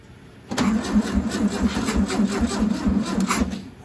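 Starter cranking the engine of a 1967 VW Beetle parked over 20 years, a close rhythmic chugging churn that runs for about three seconds without catching.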